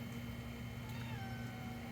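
A house cat meows faintly at close range in a quiet indoor room, a single drawn-out call over a steady low electrical hum.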